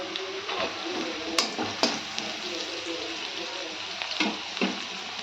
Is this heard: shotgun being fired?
no